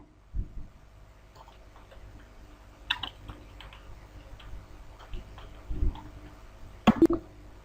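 Computer keyboard keys tapped while entering payroll voucher details in Tally accounting software, a few sparse soft clicks and a sharper cluster near the end, faint and close with no voices.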